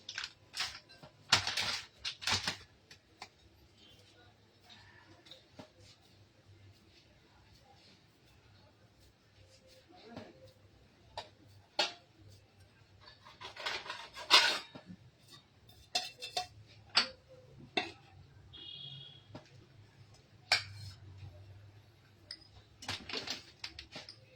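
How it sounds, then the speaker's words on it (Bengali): A spoon stirs milk powder into warm milk in a bowl, making sparse, sharp clinks and scrapes in irregular bursts, close and fairly faint, with quiet gaps between them. "মিল্ক পাউডারটা আমি একটা বাটিতে আগে গুলে নেব"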